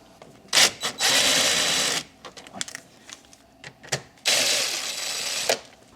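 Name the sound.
removing 7mm dash trim bolts on 2004 Chevy Malibu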